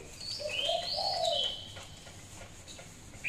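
A pet large dove kept by a Thai bird keeper coos softly in a few rising, rolling phrases, with faint chirps afterward. The bird sounds fairly close but quiet, with light background noise.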